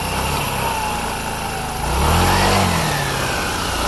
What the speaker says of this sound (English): this is the GY6 engine spinning like hell, and as you rev the engine